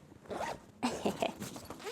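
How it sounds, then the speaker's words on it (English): A zipper on a Book of the Month tote bag is pulled in a couple of quick, scratchy strokes up close, with no one speaking over it. "Ooh, and it has a zipper as well."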